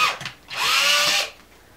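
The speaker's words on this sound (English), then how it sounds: "I'm going to drill." A power drill bores a hole through plastic hoop tubing, giving a single close, rising whine that lasts under a second after a short preliminary buzz.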